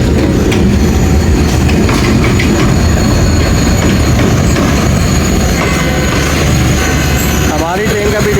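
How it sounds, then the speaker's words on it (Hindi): The Baba Farid Express passenger train rumbles past loudly and close. Wheels clatter and squeal over the rails in a continuous din, and a voice can be heard faintly under the train noise. "बाबा फरीद एक्सप्रेस GU24563 के साथ"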